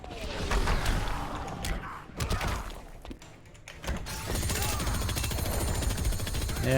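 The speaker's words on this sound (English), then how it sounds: "gun him down, fill him full of holes" Rapid gunfire in the Injustice 2 fighting game, dense crackling bursts of shots with impacts and clattering hits, loud and close, mixed with shouted voice effects.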